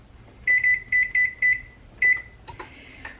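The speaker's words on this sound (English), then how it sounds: "Preheating the oven because I am getting ready to make some dinner." An oven's control panel beeps as it is set to preheat: a quick run of four or five short electronic tones, a pause, then another beep and a few button clicks, close and clear.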